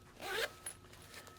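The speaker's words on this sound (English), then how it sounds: "Large, heavy gauge main zipper." The heavy gauge main zipper on an Icon Contra 3 mesh jacket gives one short, close, rasping pull followed by a faint click, with no talking.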